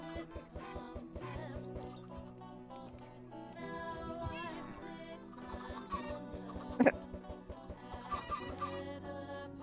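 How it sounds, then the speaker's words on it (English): Chickens in Minecraft cluck in short repeated bursts over a steady backdrop of game tones, with one louder squawk partway through. "there's 6 chickens in this room"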